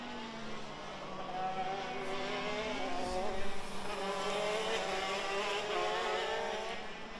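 KZ2 go-kart engines race at Pannonia-ring, a sustained buzzing whine that rises and falls as karts pass, steady and moderately close throughout.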